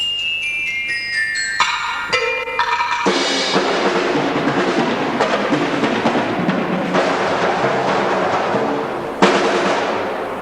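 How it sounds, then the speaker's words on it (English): A youth brass band's percussion section plays alone: bright chimes or bells and cymbal shimmer open into sustained, fairly loud pitched percussion with drums and crashes, continuous throughout with a sharp accent near the end. "let's just hear the percussion section play by themselves"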